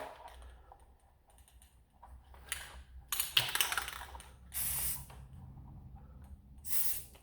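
Spray paint hisses from an aerosol can in short, close bursts onto a toy blaster, two strong sustained sprays near the end after lighter clicks and handling noises.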